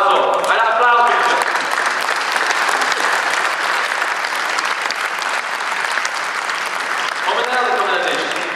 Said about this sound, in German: Also, ein Applaus bitte.